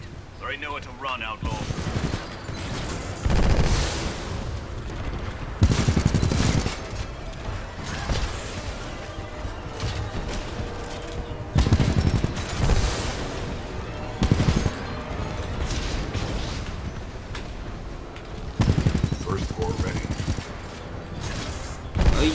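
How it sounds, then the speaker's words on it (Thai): Burst fire from a giant robot in Titanfall 2, with dense heavy gunfire and blasts rolling through repeated loud bursts, a voice talking over the din. "ไอหุ่นนี่ยิงเบอร์เซทุกทีเลยนะ"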